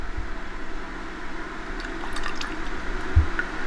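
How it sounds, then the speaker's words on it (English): Hot browned butter with a capful of homemade vanilla extract bubbles in a pan, with soft wet squishes, drips and small pops scattered over a low, steady background. "if it gets hot, it bubbles very quickly"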